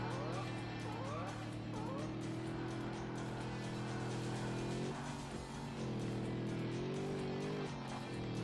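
A pickup truck engine drones loudly and steadily in the Ford Racing 2 video game, its pitch rising and dipping with throttle, while tires squeal in short bursts near the start and again in the latter half.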